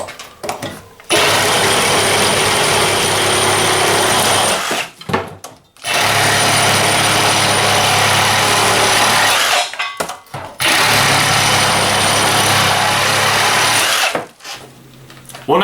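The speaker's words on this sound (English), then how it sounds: "what Sawzall review video would be complete without the famous 2x4" A Milwaukee M18 FUEL 2720-22 cordless Sawzall tears through a 2x4 in three loud, sustained bursts of rasping reciprocating cutting, each broken off by a short pause, close up and with no voices.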